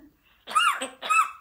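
A parrot imitates a human cough with two short, raspy, squeaky bursts in quick succession, heard close and alone in a quiet setting.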